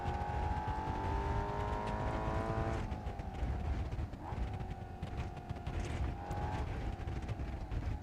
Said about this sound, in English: Why is my car chittering and chattering and making all that noise?